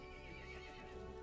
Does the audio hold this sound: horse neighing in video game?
yes